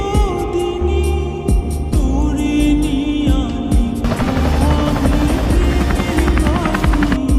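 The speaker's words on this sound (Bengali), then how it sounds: "আপনার লোকেশনে হেলিকপ্টার পাঠানো হচ্ছে" A helicopter's rotor thumps and whines continuously in a Bangla drama scene, loud and steady with a rising buzz toward the end.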